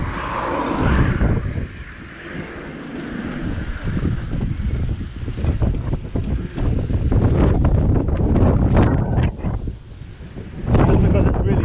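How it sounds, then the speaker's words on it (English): Strong wind buffets the microphone while riding an electric bike fitted with a conversion kit, a loud continuous rumble with gusty surges throughout and a brief lull near the end. "Just because it's really windy,"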